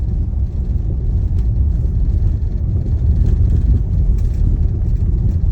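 A car rolls over bumpy brick paver streets in a residential neighborhood, a loud continuous low rumble of tires and engine with faint rattles throughout.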